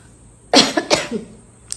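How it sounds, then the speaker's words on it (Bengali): A few sharp coughs in quick succession, close and fairly loud, followed by a brief pause and one last short cough. "কাশিটা এখন অত তাড়াতাড়ি যাবে না জানো কাশিটা হচ্ছে"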